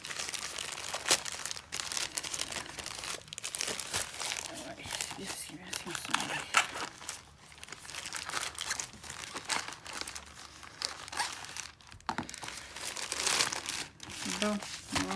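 Plastic packaging around a mandala notebook from AliExpress crinkling and tearing steadily while being opened, close and continuous, with someone talking throughout.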